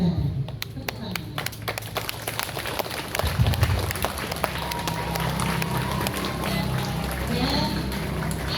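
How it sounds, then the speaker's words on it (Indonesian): A crowd claps for the officers of a Scout Day flag ceremony at an elementary school, with steady, dense applause spread over a busy outdoor background while voices talk throughout. "Tepuk tangan."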